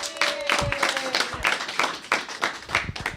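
Hand clapping from a small audience after a presentation at a budget consultation meeting, a brief scattered burst of claps with faint voices underneath.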